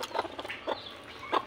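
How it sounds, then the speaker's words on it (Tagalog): Three large turkeys cluck and gobble in short, scattered bursts at feeding time, fairly quiet against a low background hum. "Ito nga pabo dagko no"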